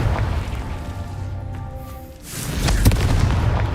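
A Confringo blasting spell explodes in a Harry Potter video game, a loud broadband boom that swells after a brief dip and holds with a sharp crack near the end, over steady rumbling game ambience with faint tonal hums.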